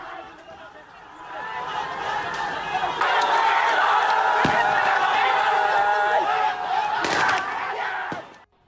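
A crowd of protesters clashing with soldiers moving alongside tanks in Bangladesh, a steady roar of many voices and shouting with occasional sharp bangs, loud and continuous before cutting off near the end.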